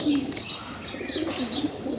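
Pigeons, including a sick black one, coo softly in a pen, with low repeated burbling calls and faint chirps over steady background noise.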